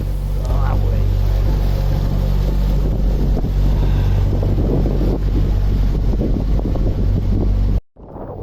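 Strong wind on a narrowboat in Leicester buffets the microphone in a steady, loud roar with low rumbling gusts throughout, cutting off abruptly near the end.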